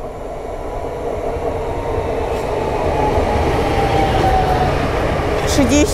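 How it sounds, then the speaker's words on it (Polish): A Koleje Dolnośląskie passenger train pulling out of Wrocław Główny toward Oleśnica, a loud steady rumble of rolling wagons building slightly, with faint squeals and a short higher tone near the end. "Zaraz wyjedzie pociąg Kolei Dolnośląskich z Wrocławia Głównego w stronę Oleśnicy"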